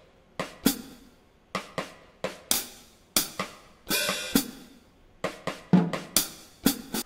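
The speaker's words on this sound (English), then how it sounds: "First, I went into the spaghetti western drum kit," A spaghetti western drum kit lays down a sparse, rhythmic pattern of sharp percussive hits and crisp cracks, some doubled, moderately quiet and dry, with short gaps between strikes and no voices.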